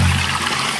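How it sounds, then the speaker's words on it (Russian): Cold mountain water runs and splashes in an old stone washhouse in the Pyrenees, a close, steady rushing flow that fills the brief moment. "Вода с гор, да? Вода холодненькая, да. Вот эта древняя была здесь постирочная."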